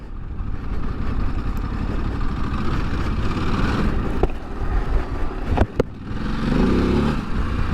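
A 2023 Ducati DesertX motorcycle engine in rally mode runs loud and close with a steady throaty drone, briefly dipping, then swelling again as the throttle opens.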